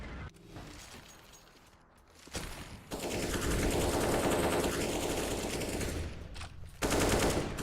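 Rapid automatic gunfire in a Counter-Strike: Global Offensive match on Inferno, sustained loud bursts with brief pauses, close and dense.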